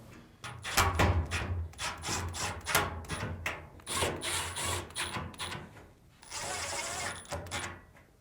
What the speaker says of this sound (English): Now, reinstall the 4 screws.